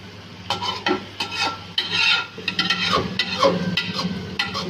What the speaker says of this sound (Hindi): शिमला मिर्च फ्राई हो गई है हल्की सी।